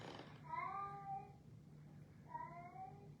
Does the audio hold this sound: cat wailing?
yes